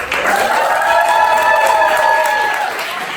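Crowd clapping to cast a vote at an improv comedy show, a sustained burst of applause with light cheering, heard under a host's voice that carries across most of the clip.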